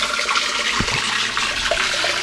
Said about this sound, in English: this is where the water falling. You can see it is coming out of that place,